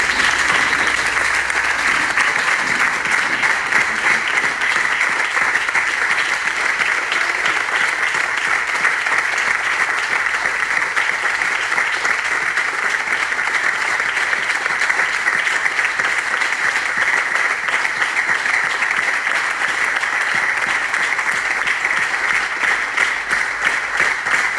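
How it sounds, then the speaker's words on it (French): Audience applause for a young speaker at a youth debate, steady and loud throughout, a dense crowd clapping without pause and no speech over it. "1 minute d'applaudissements pour ce jeune."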